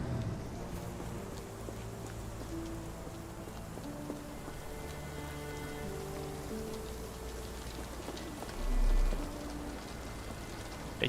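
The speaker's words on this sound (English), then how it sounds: "This dreary rain is making a miserable day even worse." Steady rain falling in the Sherlock Holmes The Awakened video game, a continuous even hiss at moderate level with a brief louder swell near the end and no talking.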